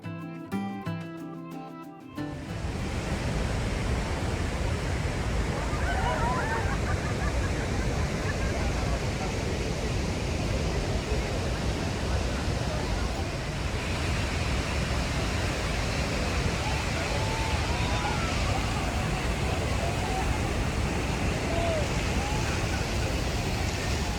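Water of Niagara Falls roars and sprays in a steady, loud, dense wash that fills the scene after a brief opening of other sound, with no clear voices above it.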